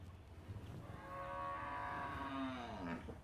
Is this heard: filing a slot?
no